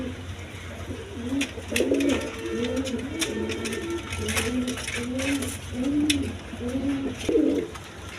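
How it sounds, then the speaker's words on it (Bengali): Fresh pigeons for sale, including a pair of red German pigeons, coo in a steady, repeated rhythm close by, with soft rolling calls overlapping through the whole stretch. "একদম ফ্রেশ কবুতর"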